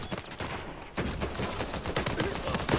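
Rapid, dense gunfire from a Uncharted 4 co-op shootout bursts out in overlapping volleys of shots, loud and continuous after a brief lull.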